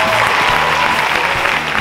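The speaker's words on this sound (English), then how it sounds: "Give them a round of applause." An audience at a tribute show bursts into dense, loud applause, steady clapping filling the whole short stretch, with no voices over it.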